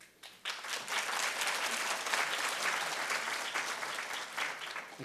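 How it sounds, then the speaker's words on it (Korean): A church congregation claps in dense, even applause that starts abruptly and holds steady, moderately distant in a worship hall, then tails off at the end. "박수해 주셔서 감사합니다"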